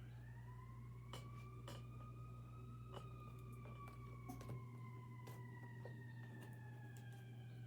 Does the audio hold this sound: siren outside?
yes